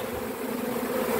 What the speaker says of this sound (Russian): А пчелки все заходят потихоньку.